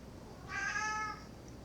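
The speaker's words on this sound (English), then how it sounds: "Meow, Meow." A single clear meow from a cat nearby, rising and falling over about half a second against a quiet room.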